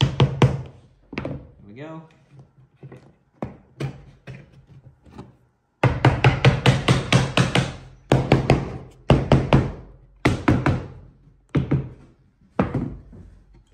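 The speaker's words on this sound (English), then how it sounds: "nailing the last of the pieces on, gluing and nailing" Hammer blows drive nails through old pallet wood pieces for a log home mural, coming as sharp, close knocks in bursts of rapid strikes with pauses between, and a voice speaks briefly.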